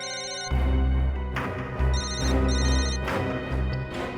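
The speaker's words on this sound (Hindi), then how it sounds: "एक मिनट, रिंग यहीं पर बज रही है कहीं।" A phone rings loudly and continuously somewhere in a hospital, its electronic ringtone repeating in a steady pulsing pattern.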